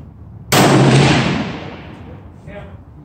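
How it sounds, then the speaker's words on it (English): A single sharp rifle shot from a thin-barrel Thompson Center Compass in 6.5 caliber cracks loudly and close, its report decaying over about a second, followed by faint quiet talk. "Alright, my third shot without the stabilizer"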